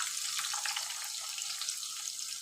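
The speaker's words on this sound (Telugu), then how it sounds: "ఇప్పుడు మన పోపు అయితే మంచిగా ఫ్రై అయింది కదా" Tempering spices fry in hot oil for a chana dal curry, a soft continuous crackling sizzle heard close and alone, with no voices.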